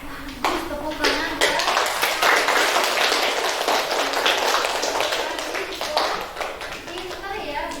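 A class of primary school pupils claps together in a dense, sustained burst of hand claps lasting several seconds, with children's voices mixed in, fairly close and loud.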